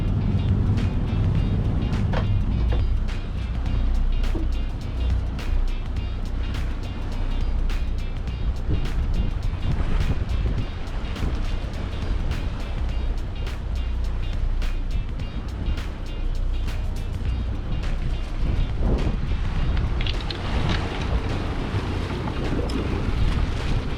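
Boat engines drone steadily under heavy wind buffeting on the microphone during an at-sea man-overboard rescue, with a loud, constant roar and gusty rumble and no clear speech.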